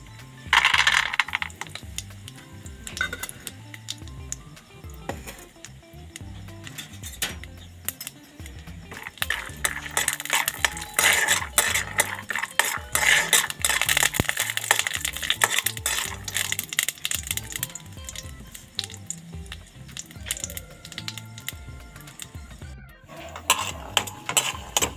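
Peanuts crackle and sizzle as they fry in hot ghee in a pan, with dense, continuous popping and spattering close up, plus occasional metallic clinks, all without any voices.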